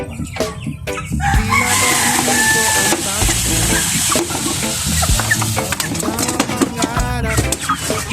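A flock of chickens being fed clucks busily close by, with a rooster crowing partway through and scratchy stirring noises throughout.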